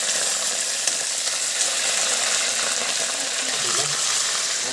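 Chicken meat for a pumpkin chicken curry frying in a pan gives a steady, loud, bright sizzle that hisses continuously and evenly, close up, with no pauses.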